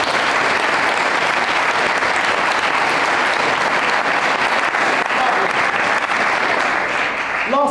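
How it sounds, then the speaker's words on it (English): Sustained applause from a large school audience for a panel, steady and dense throughout, with a few voices mixed in near the end. "Can we have a little round of applause for our panel"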